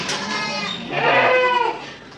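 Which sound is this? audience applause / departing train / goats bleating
goats bleating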